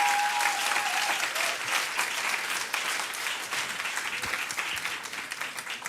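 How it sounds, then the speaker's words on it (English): A large audience at a NASA event for the Curiosity Mars rover claps steadily and loudly throughout, a dense continuous wash of applause with no talk over it. "let's give them one more round of applause"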